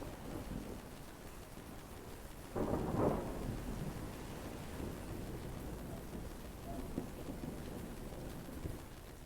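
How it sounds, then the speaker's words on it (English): Rain and thunder used as an effect within a song, a steady low patter of rain with a single rolling thunder rumble swelling in the middle, fairly faint overall. "this rain will continue on"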